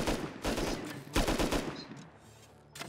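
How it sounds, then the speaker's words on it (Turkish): Rapid gunfire in the video game Rust, loud and close, with several sharp shots and short bursts in quick succession followed by a fading tail. "Niye vuruyorsun? Gerdikten sonra vuruyorum."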